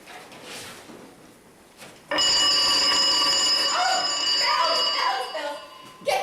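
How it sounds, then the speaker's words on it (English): A loud electric bell rings continuously indoors, a harsh metallic clatter that starts abruptly after quiet conversation and keeps going for several seconds. "Bells"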